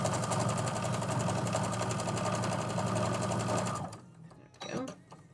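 A sewing machine runs continuously and loud, sewing pieces of a project with a fast steady rattle for about four seconds before stopping, followed by brief rustling of fabric.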